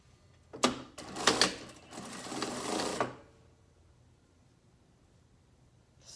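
Sewing machine stitching extra back tacks over elastic on a pleated fabric face mask, a close burst of rapid whirring stitches lasting about two seconds before stopping, with no talk.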